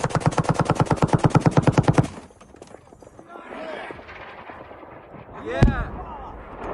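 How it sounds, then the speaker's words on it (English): Ukrainian air defense shooting down a missile in the sky, a sharp explosive boom with a ringing tail after a stretch of rapid rhythmic thumping and quieter rumble, with people talking nearby. "And that was a missile taken out."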